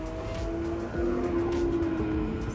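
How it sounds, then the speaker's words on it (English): Cars lapping the race track at the Porsche Experience Center in Atlanta, heard from a viewing area as a steady engine drone with rising and falling tones from passing cars, at moderate distance and without talk. "Now let's go out to the viewing area and watch the cars on the track."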